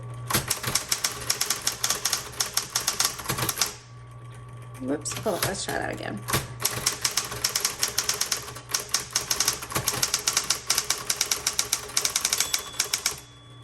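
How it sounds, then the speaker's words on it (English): Rapid keystrokes on a 1960s Smith Corona Electra 120 manual typewriter clatter in bursts, pausing briefly while someone speaks, then the fast typing resumes close by. "let's go ahead and we're going to keep typing"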